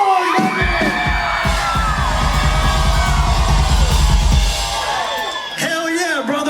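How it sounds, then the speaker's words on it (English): Crowd at a live country music concert screaming, whooping and cheering loudly and continuously, a dense wall of yells with bangs and shouted voices mixed in before it starts to fade. "How y'all was screaming?"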